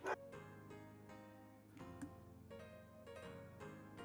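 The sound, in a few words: dog barking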